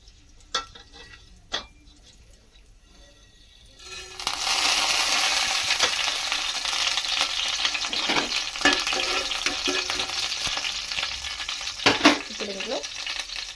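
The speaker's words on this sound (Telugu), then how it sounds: "కడాయి పెట్టి నూనె అయితే వేసాను. నూనె వేడవగానే ఆవాలు, జీరా అయితే యాడ్ చేసుకోవాలి." Mustard seeds and cumin hit hot oil in a kadai and burst into a loud, steady sizzle after a few quiet clinks, crackling on without pause until a couple of sharp pops near the end.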